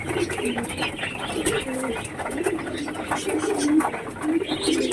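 Pet crested pigeons coo repeatedly at close range in a home loft, soft throaty rolling calls in an uneven rhythm against steady background noise, with a few faint rustles.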